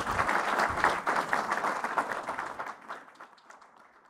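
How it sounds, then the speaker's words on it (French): An audience at a Saturday-morning gathering applauds, a full, lively patter of many hands that thins and fades away toward the end. "on peut les applaudir, absolument"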